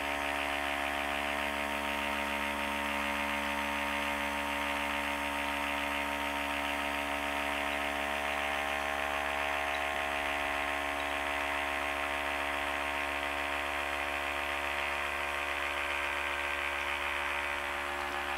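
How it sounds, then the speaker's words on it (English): Vacuum pump running during a Brazil wood lake pigment-making process, a steady close mechanical hum with a buzzing, even drone that stays constant the whole time, with no talk. "So let's flick on the vacuum pump here again."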